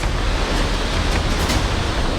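The swollen Song river in flood surges past in Dehradun, a loud, dense, continuous roar of rushing water close by, with no voices.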